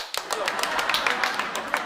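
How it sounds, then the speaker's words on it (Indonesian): A comedy show audience claps briefly, a short dense burst of hand claps with voices mixed in. "Nggak ada tepuk tangan lagi. Tepuk tangan."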